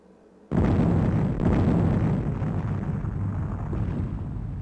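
An explosion in Space Quest 1 VGA, played on a 386SX PC from 1990, bursts in abruptly after a quiet start, then a loud, rumbling roar slowly tapers off over several seconds.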